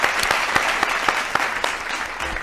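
A studio audience at a Bengali comedy show claps loudly and steadily for a first-time stage performer, with dense, continuous applause and a few sharper individual claps standing out.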